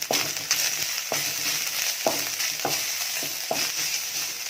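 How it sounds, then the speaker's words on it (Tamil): Fennel, cumin and coconut masala roasts in hot sesame oil, a close, dense sizzle broken by regular sharp spatula scrapes and stirring knocks, about one every half second or so. "மசாலா வறுக்கிறதுக்கு ஒரு 2 ஸ்பூன் நல்லெண்ணெய் ஊற்றிக்கலாம்"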